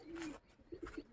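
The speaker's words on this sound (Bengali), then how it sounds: "এই যে আমার পায়রার লফট এদিকটাতে আছে" Pigeons in a rooftop loft give a drawn-out coo followed by a few short, soft coos, quiet and close with no talking.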